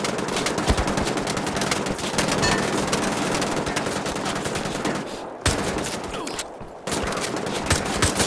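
Rapid gunfire in Wolfenstein: The Old Blood, dense automatic bursts rattling almost continuously for several seconds, with two brief lulls before the shooting resumes loud and close.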